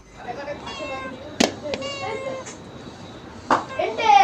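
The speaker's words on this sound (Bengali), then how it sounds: "বিড়ালটা দেখো ডাকছে" A cat meows several times at home, drawn-out cries close by, with short knocks and household noise and people talking in the background.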